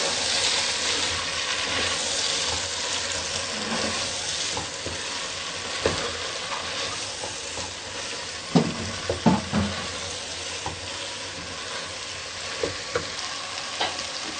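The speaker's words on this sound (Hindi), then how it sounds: "अब हम इसमें गोभी शामिल करेंगे। इसको भी हम अच्छे तरीके से भूनेंगे।" Cauliflower for aloo gobhi sabzi fries in a pan with a continuous loud sizzle, broken by occasional spatula scrapes and knocks against the pan.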